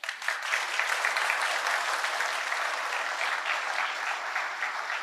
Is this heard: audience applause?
yes